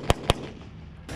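A 9mm pistol fires two sharp, loud cracks in quick succession, a fraction of a second apart, followed by a fading outdoor echo.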